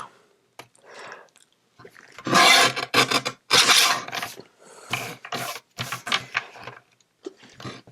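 A Christmas card is trimmed down with a paper trimmer, giving bursts of rasping, scraping cuts separated by short quiet gaps and small clicks. The sound is close and alone, with no talking.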